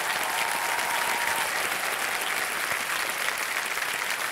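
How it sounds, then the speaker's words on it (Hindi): Dense, steady studio audience applause on the KBC quiz show, loud and continuous throughout with no break or voices. "तालियां"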